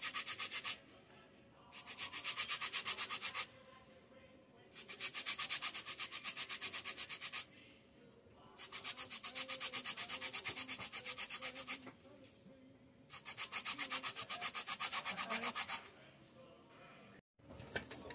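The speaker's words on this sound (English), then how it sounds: "I got the zesting done." An orange being zested in a kitchen: repeated scraping strokes in long rhythmic bursts separated by short pauses, close and fairly clear, with no talking over it.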